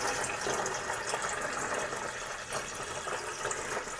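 Water pours steadily into a one-gallon fermenter while apple pie mead is being made, a continuous, fairly quiet splashing fill with no one talking.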